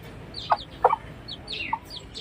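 Chickens cluck nearby in a few short, separate calls, moderately loud over a quiet background, with no talk.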